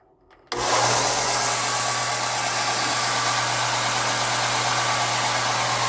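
A Craftsman 6x48 belt sander starts after a brief quiet moment, then runs with a loud, steady motor hum and a constant whooshing rush of the belt, close by and alone.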